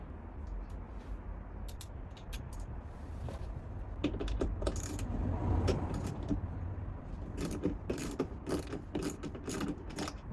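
Ratcheting 13 mm socket wrench working loose a bolt on a melted inverter fuse, a close run of quick metallic clicks in uneven bursts over a steady low hum, no talking.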